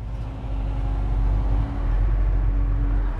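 A 1969 Plymouth GTX rolls along with a deep, steady low engine rumble and road noise from inside the cabin, a constant loud drone with no talk over it.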